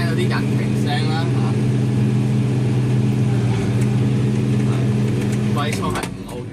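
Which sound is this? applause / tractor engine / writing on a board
tractor engine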